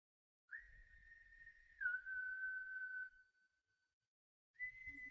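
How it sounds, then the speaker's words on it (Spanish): A long, eerie high-pitched whistle holds a steady tone for a few seconds, dips slightly, fades out, then returns briefly amid quiet surroundings. "un silbido se hace escuchar"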